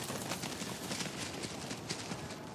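Horse hooves clip-clop steadily across a Kyrgyz pasture, a dense, continuous patter of close footfalls with no voices.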